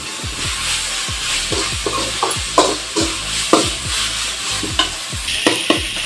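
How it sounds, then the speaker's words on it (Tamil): Onions and tomatoes sauté in a pan for pasta, making a steady, fairly loud sizzle with repeated scraping strokes of a stirring spoon throughout. "இப்போ பார்த்தீங்கன்னா நல்லா வெங்காயம் தக்காளியெலாம் நல்லா வதங்கிடுச்சு"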